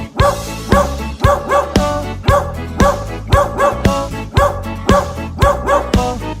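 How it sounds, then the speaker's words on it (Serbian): A dog barks repeatedly in a steady rhythm, evenly spaced yaps set against a bouncy musical backing of a children's song. "Farmer ima malog psa"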